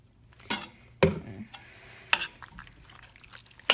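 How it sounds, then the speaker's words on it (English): Marinara sauce is stirred into calzone dough in a bowl, with a handful of soft scrapes and knocks of the utensil at irregular intervals. "we're adding in the marinara sauce, and we're just gonna kind of mix it up after we added it in."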